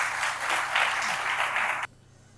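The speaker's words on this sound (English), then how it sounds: "Please welcome them with a round of applause." At an academic ceremony, an audience welcomes guests to the stage with a burst of steady applause that swells slightly and then cuts off abruptly near the end, leaving quiet.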